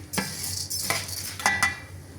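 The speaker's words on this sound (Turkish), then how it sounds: "Ben de şehriyeyi kavurayım." Vermicelli being toasted in a pan while preparing Ankara tava with meat, with a few quiet stirring scrapes and light clinks over a soft sizzle.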